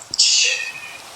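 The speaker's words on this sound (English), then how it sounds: "have you ever been jumped by the rain?" Rain in the Minecraft video game rushes in as a sudden bright hiss that swells quickly, then slowly thins and fades, alone with no talk.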